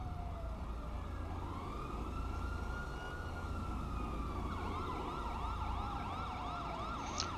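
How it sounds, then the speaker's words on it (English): An ambulance siren in the video game GTA V wails over steady traffic rumble, first with a long rising and falling tone, then with a faster yelping warble, moderately loud with no speech. "Alright, there go your ambulance"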